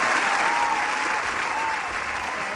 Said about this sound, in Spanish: Fuerte el aplauso para Gerald,